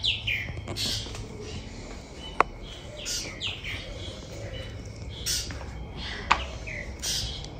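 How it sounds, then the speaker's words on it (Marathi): Birds sing and chirp in trees on an evening in Mukuba village in Africa during winter, with scattered high calls over low background hum and two sharp clicks, fairly faint and distant. "यावरती पक्ष्यांचा आवाज बघा झाडावरती"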